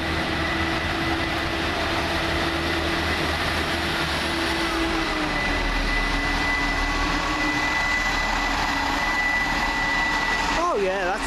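A Class 158 diesel multiple unit, 158830, runs on the Arriva Trains Wales service from Maesteg to Cheltenham Spa. Its engine drones in a loud, steady roar close by that holds for the whole stretch, with a brief whine near the end.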